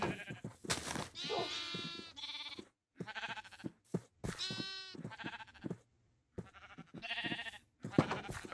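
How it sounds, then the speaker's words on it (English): Sheep in the Minecraft video game bleat over and over, a series of quavering calls spaced by short gaps, fairly quiet and close. "We gotta get all these sheep in here."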